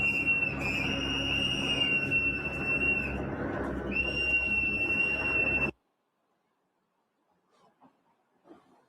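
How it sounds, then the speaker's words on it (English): Protesters' piercing whistles blow loud and continuous for several seconds in the Twin Cities, overlapping shrilly, then stop abruptly, leaving near silence with faint distant noise. "all around the Twin Cities, you hear these ear-piercing whistles"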